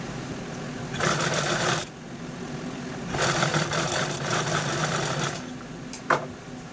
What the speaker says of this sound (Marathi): हे दोनही बेल्ट आपण स्टिच करून घेऊया